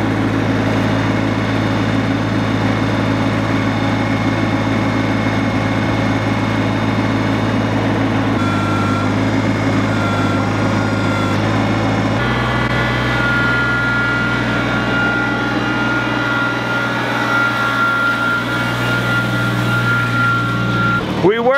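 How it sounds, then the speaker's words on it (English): Farm tractor engine running steadily while moving a chicken tractor through an old apple orchard, a continuous low droning rumble with a shift in pitch partway through and some mechanical rattling. "we're gonna try moving the chicken tractor with the tractor"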